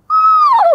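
A human voice imitates a screech owl call, a single short, loud, tonal whinny-like note that holds steady and then slides downward before cutting off.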